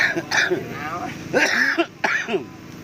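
Several harsh coughs and throat-clearing bursts break up ongoing talk, close to the listener.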